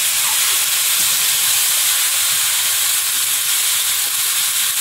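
Prawns, then ash gourd, frying in a pan with a steady, close sizzle and hiss that runs without a break, with no voices over it.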